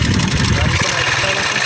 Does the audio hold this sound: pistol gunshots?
no